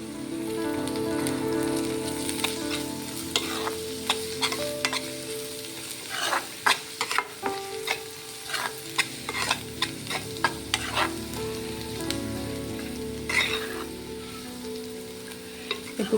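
A spoon stirs and scrapes through a sizzling egg puff stuffing mixture in a pan, seasoned with chilli powder, producing irregular clattering strokes over a continuous close frying hiss, with no voices.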